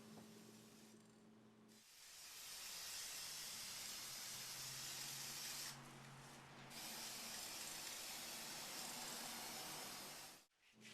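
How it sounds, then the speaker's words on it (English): A can of flat black spray paint hisses in two long, steady, close bursts as it coats wooden table legs, with brief pauses between the bursts and at the end. "I went ahead and began applying coats of flat black spray paint to my Waddell table legs"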